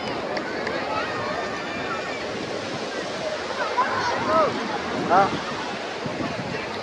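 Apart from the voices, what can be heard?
sea waves and wind at the Mumbai seafront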